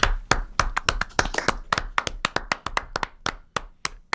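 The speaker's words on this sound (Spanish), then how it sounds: "Escucho poco aplauso" Sparse applause from an audience at a short-story contest awards event, a handful of distinct, close hand claps at an uneven, scattered rhythm rather than a full ovation.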